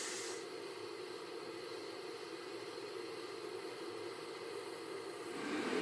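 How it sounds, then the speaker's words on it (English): An electric kettle heating water gives off a steady, faint hiss and rumble that holds even throughout, growing slightly louder toward the end. "You got the kettle on? So kettle is on. I'm boiling some water"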